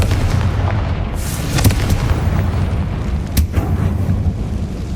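Repeated Confringo fire spell blasts from the Hogwarts Legacy video game, loud booming bursts over dense continuous combat noise, with sharp explosive peaks near the middle and end.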